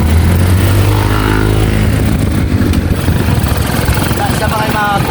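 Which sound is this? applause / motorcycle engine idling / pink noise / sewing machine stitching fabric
motorcycle engine idling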